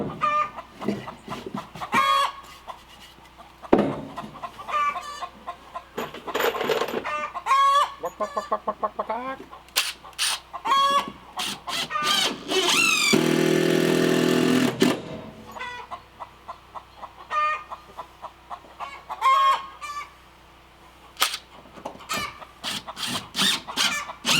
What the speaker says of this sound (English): Noisy hens.